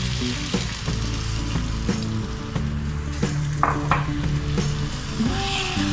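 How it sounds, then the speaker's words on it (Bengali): Milk poured slowly into sizzling chicken changezi in a pan: continuous loud frying sizzle with intermittent stirring and clinks of utensil on pan, close and busy, with no voices. "এবার আমি দুধটা আস্তে আস্তে দিয়ে দিচ্ছি।"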